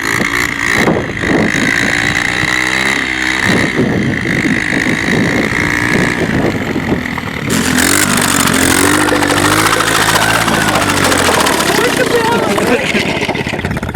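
A motorized snow scooter engine runs continuously with a buzzing, raspy drone that shifts and rises in pitch partway through, while people talk over it.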